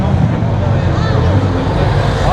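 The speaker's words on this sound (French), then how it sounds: "là on a une petite tripotée de petites Renault qui arrivent" A small group of little Renault race cars arrive on the Magny-Cours circuit at a classic car event, their engines a loud, close, rough roar under a murmur of crowd voices.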